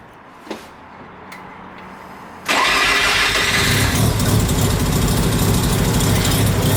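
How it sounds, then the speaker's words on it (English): A yellow Mazda RX-7 FC drift car engine cranks and fires abruptly after a quiet moment, then settles into a loud, steady, close idle. "Car turns on perfect."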